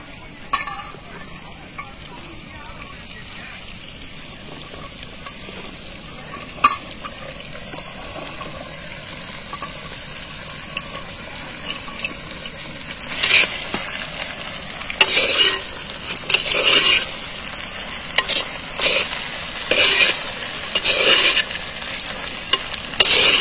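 Okra stir-frying with softened tomato in a pan for a village-style ladies finger poriyal, a low sizzle at first, then louder bursts of crackling and spatula tossing over the later half.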